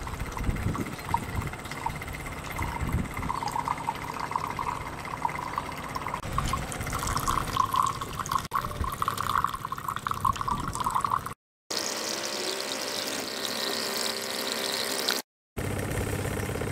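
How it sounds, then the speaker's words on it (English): Diesel fuel flows from a 1.6 kW wrong-fuel petrol separator into a glass. It makes a steady trickling, splashing stream over a running machine hum, broken by two brief gaps near the end. "Now we're filling up the glass with diesel fuel."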